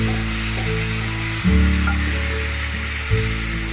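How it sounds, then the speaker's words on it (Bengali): Eggplant frying in hot oil in a pan on a gas stove gives a loud, continuous sizzle close by, with a low steady hum underneath and no voices. "এবার আমি একটু গ্যাসটা জ্বালিয়ে বেগুনটা একটু ভেজে নিচ্ছি।"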